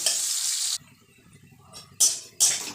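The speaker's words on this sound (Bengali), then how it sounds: "ওই যে পেঁয়াজ দিয়ে দেবো এতে পেঁয়াজটা একটু লাল করে নেব" Onions for a fish curry sizzle and get stirred in hot oil: loud bursts of crackling sizzle separated by quiet gaps, with scraping stirring sounds in between and no talking.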